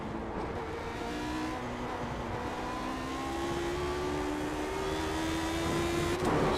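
A Lotus 79 race car at Monza in a racing game, its engine note climbing steadily as it revs up through a long acceleration, loud and close, with a brief burst near the end.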